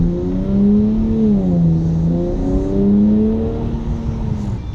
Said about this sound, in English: That Jatco 9-speed transmission, that sounds pretty mint